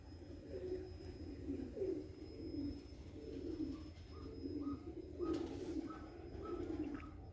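Soft, low cooing from a blue pied stray pigeon with a swollen crop repeats in a steady rhythm, close by, with faint higher chirps over a quiet background hum.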